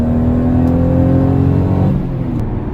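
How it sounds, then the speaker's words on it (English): Stock 1994 Toyota Supra twin-turbo with a six-speed manual, its engine drawing air under load in a loud, steady whooshing roar that eases off near the end, heard from inside the car. "you can kind of hear the air suck through the engine"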